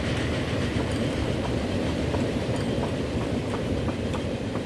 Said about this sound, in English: We've got a nice old steam train here on the main line.